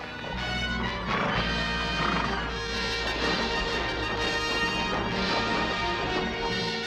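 A cavalry officer's horse in an animated Western adventure whinnies and clatters its hooves over a busy, dramatic cartoon soundtrack, with sharp impacts mixed into the steady, moderately loud scene.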